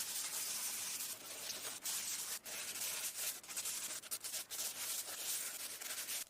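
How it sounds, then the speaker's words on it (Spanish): Filler putty is sanded by hand on a mold for a solar kayak tug. Steady, close abrasive rubbing strokes follow one another with short pauses, alone and fairly quiet. "apliqué enduido y lo lijé"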